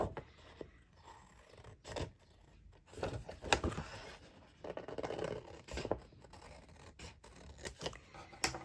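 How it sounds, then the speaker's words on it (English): Scissors snip through the paper front panel of a handmade envelope, following marked lines in a series of short, quiet, uneven cuts separated by brief pauses. "Now I need to cut the front panel."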